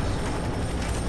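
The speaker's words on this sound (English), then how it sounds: "Oh, we got jets too?" Jets roar overhead in the shooter game F.3.A.R., a dense, steady rumble that fills the whole moment with no voice over it.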